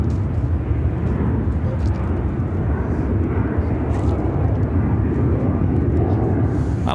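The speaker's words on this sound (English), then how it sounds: "This is United Airlines 1565 taking off to Denver on the" A United Airlines Boeing 757-300 jet takes off at Chicago O'Hare, bound for Denver, giving a loud, steady, broadband engine roar that holds for several seconds at close range.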